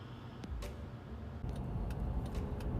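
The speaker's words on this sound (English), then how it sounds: "I've been driving for like 10 minutes now." Steady low rumble of a car driving, heard from inside the cabin, with faint ticks and light clicks over the drone; no one talks.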